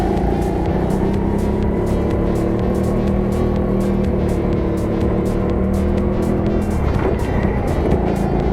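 A racing kart at a BIKC local final screams through a fast lap, its engine a loud, close, continuous buzz that rises and falls with the corners.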